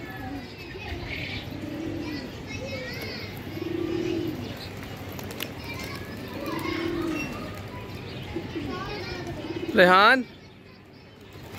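Pigeons perched on a house rooftop coo softly and steadily while people talk nearby, before a loud, shrill, falling call cuts in near the end.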